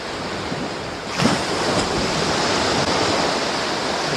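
Waves break on a beach at dawn, a steady roaring wash of surf with one louder crash early on, wind noise mixed in and no voices.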